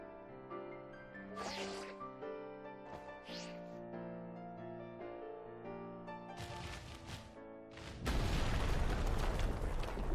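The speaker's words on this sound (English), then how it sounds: "it completely destroys me with a rock smash" Klawf, the Stony Cliff Titan in a Pokémon battle, lands a rock smash attack, a sudden loud crashing burst that breaks in near the end over sustained musical tones.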